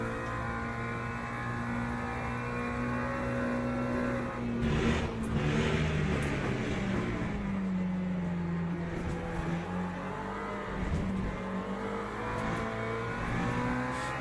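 A McLaren GT3 race car engine in a racing game drones steadily and loudly throughout, with a brief rev surge and gear-change shifts midway, then continues at a high sustained pitch with no talking.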